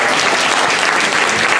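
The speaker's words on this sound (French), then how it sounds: "Un applaudissement" Steady, dense applause from a karaoke-night audience, loud and continuous throughout the short burst with no voices standing out.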